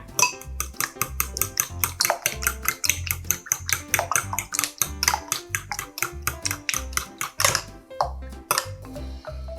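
Eggs seasoned with salt and pepper are beaten in a bowl, giving a quick, regular run of close clinks and taps as a utensil strikes the sides.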